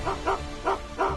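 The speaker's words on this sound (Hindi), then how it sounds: "अब जरा भौंक के दिखाना।" A dog barks four times in short, evenly spaced yips, close and clear, with no talking over it.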